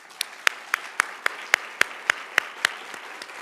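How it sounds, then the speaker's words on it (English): A handful of people clap for community organizations at a grant announcement, about a dozen distinct, evenly spaced claps ringing out sparsely in a quiet room before fading out. "Let's give them a round of applause."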